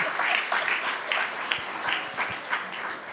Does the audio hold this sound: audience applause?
yes